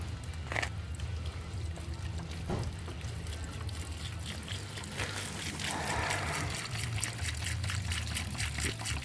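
Water poured from a container onto a smoldering outdoor fire, a continuous close splashing trickle with hissing and crackle over a low rumbling background, steady throughout and slightly louder toward the end.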